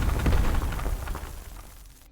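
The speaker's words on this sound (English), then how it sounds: "Let's set off a bunch of explosions." Video game explosions from Boom Tycoon 2 go off as a loud, rumbling blast that quickly fades away over about two seconds.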